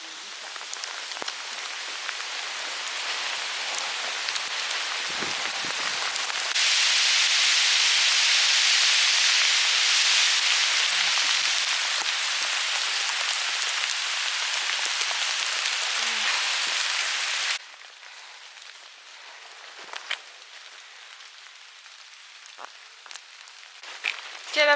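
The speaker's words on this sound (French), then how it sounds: "Carrément de la grêle quoi." Heavy hail pelts down on a hiking trail in the Monédières, Corrèze, France, in a loud, dense roar that swells midway, then cuts to a quieter patter with a few sharp nearby hits.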